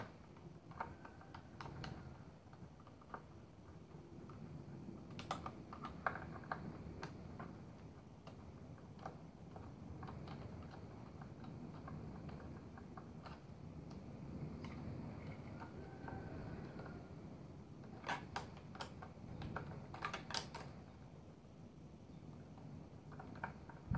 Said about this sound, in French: Donc déjà défaire ces vis là.